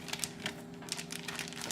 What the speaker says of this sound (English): now once that's all chopped up, we're just going to throw it into this plastic bag.